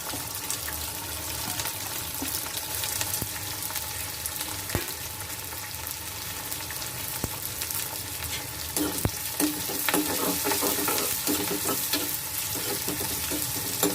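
Sliced onions and green chillies fry in a pan for a bitter gourd curry, giving a steady close sizzle with occasional stirring scrapes throughout, louder near the end.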